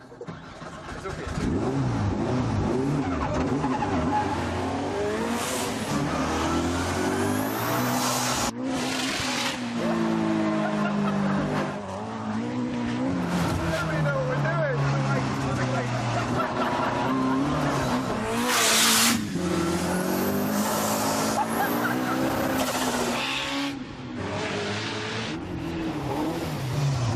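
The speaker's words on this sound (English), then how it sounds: "So this is Rallycross." Rallycross cars race and skid around a circuit, engines revving loudly and continuously with rising and falling pitch and bursts of tyre scrabble, while a voice talks over the din throughout.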